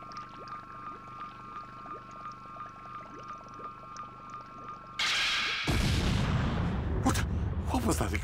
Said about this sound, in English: What was that explosion just now?